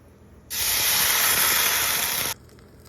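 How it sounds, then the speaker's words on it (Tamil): Water boiling in a cooking pot gives a loud, steady rush of hissing steam that bursts in suddenly, holds for nearly two seconds, then cuts off abruptly, with quiet background before and after. "தண்ணி இந்த மாதிரி கொதிக்கிறப்ப"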